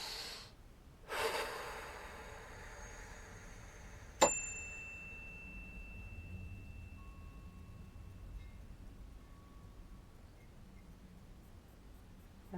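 A single bell struck once, a sharp ding followed by a long ringing tone fading over several seconds, preceded by a loud breath and quiet room noise.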